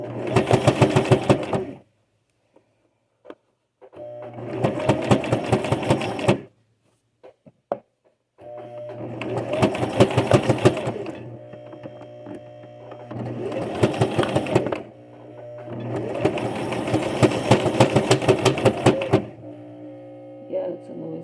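A noisy sewing machine stitching a fabric bowl cozy runs in five loud bursts of rapid mechanical whirring, with short silent gaps and a steady motor hum between some runs, heard up close.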